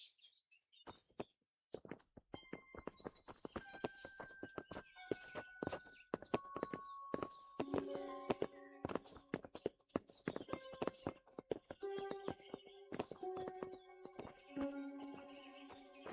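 Horses' hooves clip-clop in an uneven walking rhythm in Kingdom Come: Deliverance, fairly close and clear, while birds chirp in the background.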